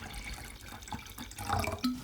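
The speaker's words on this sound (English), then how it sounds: "I gotta get this water in here first" Water is poured into a pot to make fish broth on a volcano summit, a continuous close splashing and trickling stream with small bright drips, steady for about two seconds.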